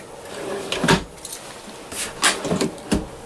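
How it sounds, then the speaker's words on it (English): Full extension kitchen drawers with heavy-duty stopping mechanisms in a Thor Axis 25 motor home, sliding and thudding shut several times in quick succession, close and fairly loud. "Full extension drawers."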